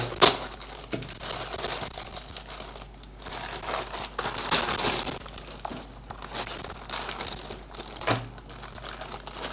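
Plastic packaging crinkles and rustles up close in continuous bursts, with sharper crackles as the bags are handled and squeezed.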